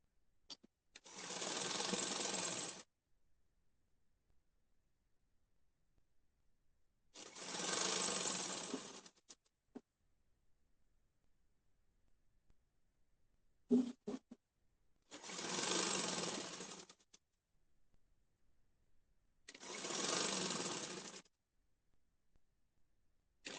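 Sewing machine stitching the folded side slit hem of a kurti, running in four separate bursts of about two to three seconds each with silent pauses between them, close and steady.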